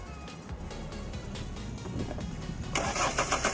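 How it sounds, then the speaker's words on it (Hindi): A Mahindra Scorpio S2 pickup with an engine vibration and power-drop fault cranks and starts up close, catching into a rough mid-pitched idle that grows louder toward the end, with no voices. "ये इसको स्टार्ट किया हमने, इसका इंजन भी वाइब्रेट कर रहा है।"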